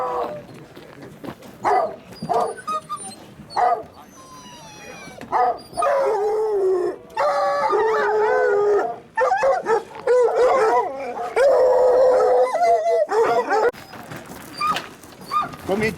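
Several hunting dogs at a French hunting-dog contest bark, yip and howl in overlapping bursts, with whimpers between, loud and near, while people talk faintly in the background.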